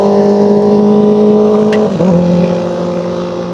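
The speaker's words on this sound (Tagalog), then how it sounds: "Talagang tinuodo ni Manong yung harurot ng motor niya, no?" A motorcycle revs hard beside a rail construction site on a Manila street. The loud, close engine drone holds steady, shifts pitch sharply around the middle, then eases off slightly.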